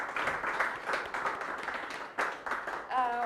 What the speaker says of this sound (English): clapping for him for the time that he has given us